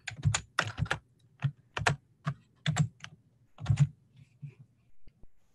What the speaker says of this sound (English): I'm typing the info right now